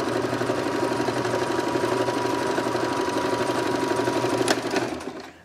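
A sewing machine runs steadily as fabric is fed through it, a continuous close mechanical whir with a regular rapid stitching pulse that stops near the end.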